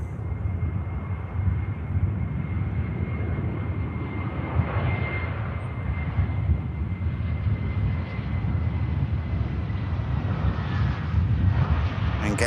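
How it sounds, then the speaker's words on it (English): A Lufthansa airliner arriving from Frankfurt and landing at Manchester Airport makes a continuous low jet roar that swells gradually, heard from a distance through rain and wind on the microphone. "Here is the Lufty in from Frankfurt"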